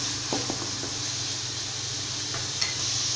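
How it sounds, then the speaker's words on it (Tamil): Radish pieces sautéing in a pan over a medium flame for sambar, a steady soft sizzle with a few light stirring clinks and scrapes, close and continuous with no talk. "இப்போ வந்து ஸ்டவ்வை மீடியம் ஃப்ளேமில் வச்சுருக்கேன். காய் வதங்கட்டுங்க."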